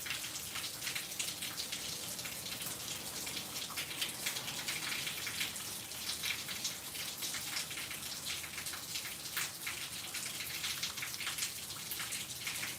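Steady rain falling in a garden, a continuous hiss of drops pattering on surfaces with scattered louder splashes, even and unbroken, with no voices.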